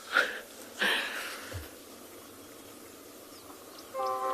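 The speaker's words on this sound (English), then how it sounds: "Can hear a train in the background" A faint train passes in the background of a South African morning safari scene, with low rumble, a couple of rising swells and a brief horn-like tone near the end.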